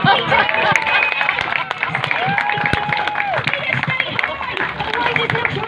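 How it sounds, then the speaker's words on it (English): Audience at the Bega Show 2022 applauding a volunteer named Peter during an on-stage act, dense steady clapping mixed with crowd noise and a voice speaking over it, continuous throughout. "Round of applause for Peter."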